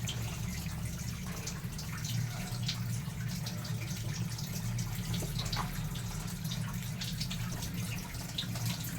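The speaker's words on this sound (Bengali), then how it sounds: "এবার এর মধ্যে এই বাটি ধোয়া জলই দিয়ে দেবো" Water from a rinsed bowl poured into a pressure cooker holding rice and yogurt for pulao: a continuous, steady gushing pour, close and even in loudness throughout, with no speech.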